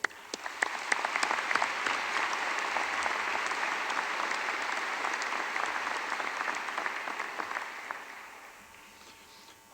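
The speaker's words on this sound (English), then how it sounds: "Please join me in a round of applause as a show of appreciation for their support." Audience applause fills a university presidential installation ceremony hall, a dense, steady clapping from a large crowd that holds for several seconds before thinning and fading toward the end.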